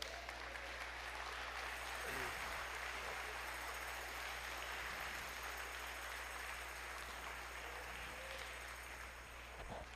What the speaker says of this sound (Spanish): ¿Sí le da una ofrenda de palmas a su rey o no?